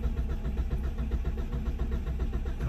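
An old one-cylinder vehicle engine cranks steadily without catching, a loud, close, continuous rhythmic chugging churn that runs unbroken throughout.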